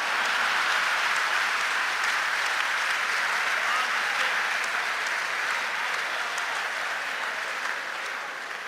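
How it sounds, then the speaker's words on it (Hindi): An audience claps at a comedy parody performance, a dense, even wall of applause from a large crowd lasting nearly nine seconds and tapering only slightly at the end. "इस बात पे भाजपा वाले भी ताली बजा रहे हैं"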